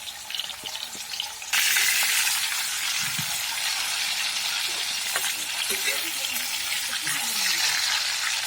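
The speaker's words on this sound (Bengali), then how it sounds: "তেলের মধ্যে পনির দিয়ে দিলাম।" Paneer cubes dropped into hot oil set off a loud, steady sizzle that jumps up suddenly and holds on, with a few faint clinks and stirring sounds underneath.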